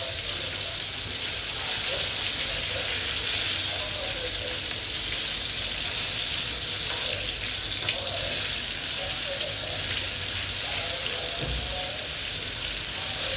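Chicken pieces frying in oil for a masala chicken curry, a steady dense sizzle running throughout with occasional stirring clinks and faint background sounds.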